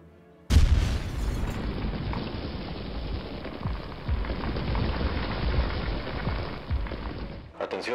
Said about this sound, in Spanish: En la calle Libertad se registró una explosión.